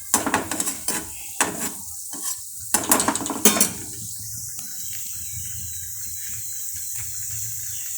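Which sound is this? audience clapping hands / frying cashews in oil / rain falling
frying cashews in oil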